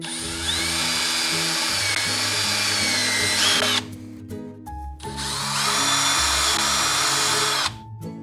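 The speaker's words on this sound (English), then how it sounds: "If available, I recommend using a countersink bit prior to screwing" A power drill fitted with a countersink bit bores holes in wood for a drawer front, whining loudly and steadily in two long bursts separated by a brief pause, up close with no speech.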